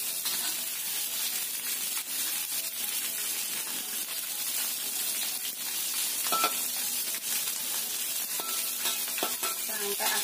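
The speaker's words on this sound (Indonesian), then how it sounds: "Kita goreng dulu terinya sampai setengah matang atau sampai agak matang." Small anchovies frying in reused oil left over from frying eggplant, a steady close crackling sizzle that runs throughout with no talk.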